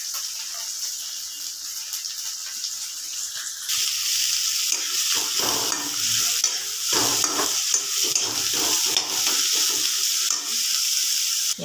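Chopped cabbage and greens fry in oil in a wok, first a gentle simmering hiss, then a louder steady sizzle with spoon scraping and stirring, close up and continuous.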